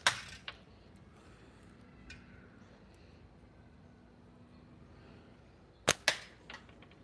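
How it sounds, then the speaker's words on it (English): A slingshot fires 8mm ammo: a sharp snap near the start, then two more close cracks with a faint rattle about six seconds in, over a quiet background hum. "Shooting some 8mm like normal."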